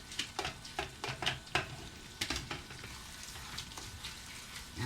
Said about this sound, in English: And I'm going to add the onions.